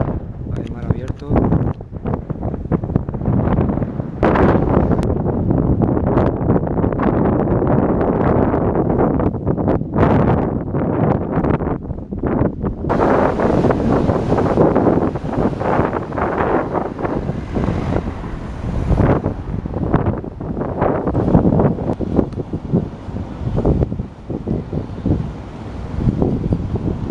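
Strong wind buffets the microphone beside the open Atlantic at the mouth of the Douro near Porto, with surf noise underneath, steady and loud throughout while people talk over it.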